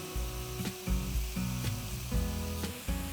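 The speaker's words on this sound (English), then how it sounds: "Let's stir fry these two on high flame" Chicken strips and capsicum stir frying in a hot pan over a high flame, a steady close sizzle broken by repeated scraping and clattering stirs, with no talking.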